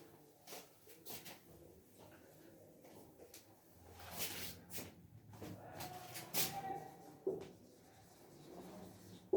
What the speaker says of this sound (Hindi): मैं कुछ आपके सामने लिख रहा हूं।